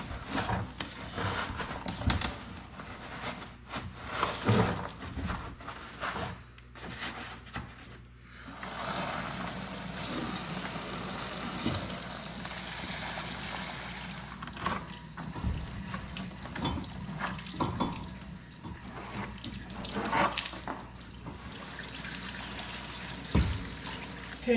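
Water from a garden hose flushing debris out of the belly pan skid plate of an Argo ATV, a continuous splashing and trickling with shifting intensity as the stream moves, mixed with occasional clunks and rattles.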